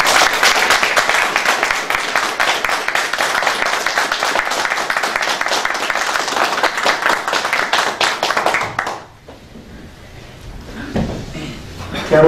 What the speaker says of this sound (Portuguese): convidar meus colegas vereadores que aqui estão e os servidores da casa para nós dar as boas-vindas com uma salva de palmas